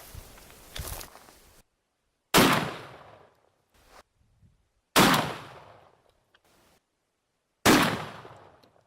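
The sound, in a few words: shotgun firing turkey loads at targets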